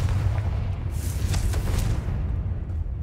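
In Hogwarts Legacy, a Confringo spell detonates with a deep, loud booming blast and crackling fiery burst that rumbles steadily for a few seconds, with no talking.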